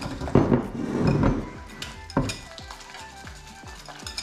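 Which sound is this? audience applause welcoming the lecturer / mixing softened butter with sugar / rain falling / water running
mixing softened butter with sugar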